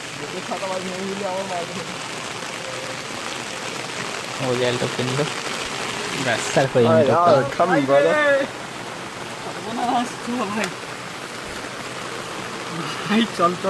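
Steady rain hisses throughout, fairly close, with people talking over it at intervals.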